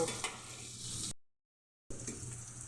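Chopped carrot and onion frying in a pan for white sauce pasta, a soft steady sizzle with faint stirring, broken by a sudden gap of silence before the sizzle resumes.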